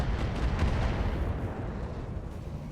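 Artillery fire in the mech strategy game RogueTech: a dense, continuous rumble of heavy booms and blasts, loud and low-heavy throughout with no speech over it.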